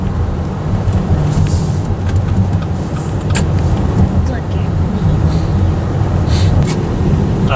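Car driving through a residential neighborhood of apartments and townhomes in Ahwatukee, Arizona; steady interior road rumble and tire noise throughout, with a voice talking over it.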